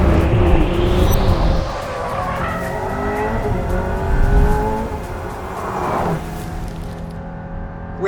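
An Aston Martin hypercar lapping a race track: a loud engine rises and falls through several gear changes, passing close with tyre noise and a brief squeal, then fades toward the end; no one speaks.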